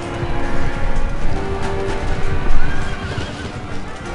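Cavalry horses in the battle game Empire: Total War neigh and whinny repeatedly over clip-clopping hooves, loud and close, with several overlapping calls and no talk.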